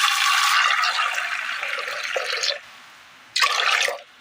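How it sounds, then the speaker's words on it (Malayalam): Water poured into a pressure cooker holding soaked chickpeas: a loud, close rush of filling water that stops, then a second short pour after a brief pause. "ആവശ്യമായ വെള്ളം കൂടി ചേർത്ത് കൊടുക്കാം."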